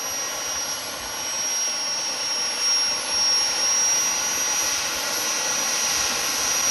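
An RC Harrier jet model with vectoring nozzles transitions from hover into forward flight, giving off a steady, loud turbine roar and a high, piercing whine that holds throughout with slight swells.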